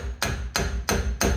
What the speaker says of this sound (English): hit it on the end with a hammer